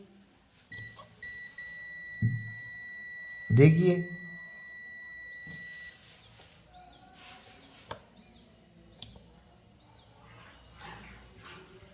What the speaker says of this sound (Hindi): बहुत से भाई क्या करते हैं कि इसको बजर पर चेक करते हैं।